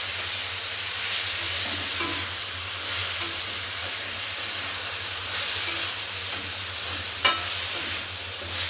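Cauliflower florets seasoned with turmeric and salt being stirred in a pan for a Bengali cauliflower fry, giving a steady soft hiss with occasional faint scrapes and light clinks, no voices.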